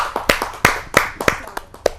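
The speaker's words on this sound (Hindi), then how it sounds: "तो बुलाते हैं आप सबकी जोरदार तालियों से" A small audience at a Hindi poetry gathering claps in a short burst, with sharp, uneven, individual hand claps over about two seconds.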